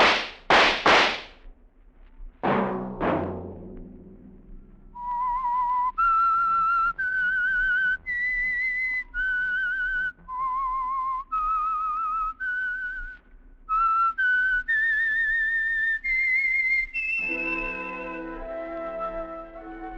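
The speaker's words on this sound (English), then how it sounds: "Let that whistle be your signal" A few sharp cracks open, then someone whistles a clear, steady melody of sustained notes, ending as orchestral music swells in.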